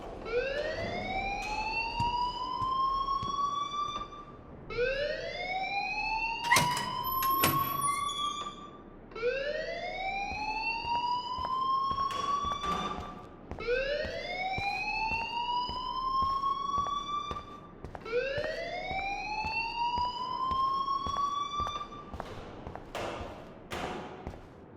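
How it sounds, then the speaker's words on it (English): Fire alarm ringing in the Life Is Strange video game: a loud electronic siren of rising whoops repeating about every four seconds, with sharp clicks between cycles and no talk. "please turn off that alarm since that's your job"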